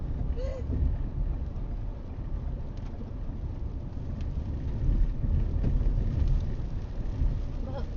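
Wind buffeting the microphone during heavy rain in Sweihan, Abu Dhabi, with low rumbling noise, steady and gusting slightly, with a faint vehicle-like drone underneath.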